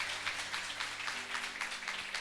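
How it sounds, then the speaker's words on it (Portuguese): Church congregation applauding during a lively worship service marking a church anniversary, a faint, steady patter of many hands clapping in rough rhythm with a low musical hum underneath. "As palmas bem alegres."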